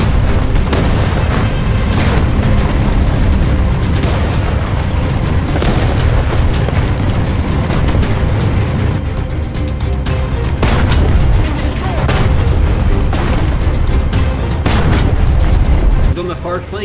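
Tank cannon fire and explosions in War Thunder, dense booming blasts and rumbling impacts going on continuously and loudly, with someone talking over them.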